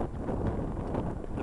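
Outdoor wind buffeting the microphone near railroad tracks beside a wetland bird refuge, a steady low rumbling roar lasting the whole moment with no voices.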